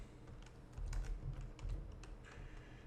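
Quiet clicking of computer keys comes in a short burst of quick, irregular keystrokes, close and faint, with no voices.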